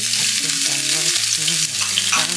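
Avocado oil sizzles in a pan for home-cooked tofu dishes, giving a steady, even hiss that runs continuously beneath louder background music.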